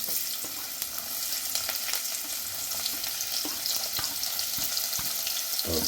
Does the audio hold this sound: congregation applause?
no